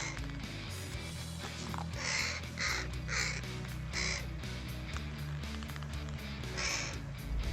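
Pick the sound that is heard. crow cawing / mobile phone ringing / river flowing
crow cawing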